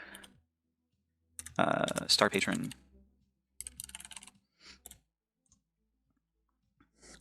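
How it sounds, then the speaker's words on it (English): Computer keyboard typing during a live art request stream, with scattered clicking keystrokes in short bursts between spoken words, fairly close and moderately loud. "I'm typing in the wrong chat."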